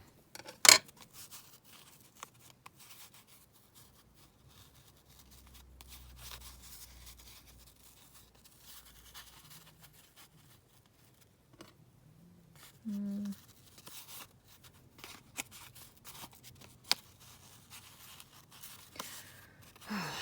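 Scissors trim black lace at a desk, with a few quiet crisp snips and rustling material amid near-silence, plus occasional handling knocks.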